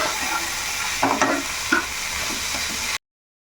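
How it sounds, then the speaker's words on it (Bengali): Ginger-garlic paste being sautéed in a pan for an egg curry, a steady sizzle with a couple of louder spoon scrapes around the middle, close by with no voice, then cutting abruptly to silence. "দু চামচের মতন আদা রসুন বাটা আছে তো এটাও একটু ভালো করে কষিয়ে নেব"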